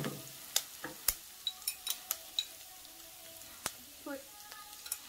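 Chopped curry leaves frying in a pan while being stirred, a faint, quiet sizzle under a series of sharp metallic taps and scrapes from a utensil, spaced irregularly across a few seconds.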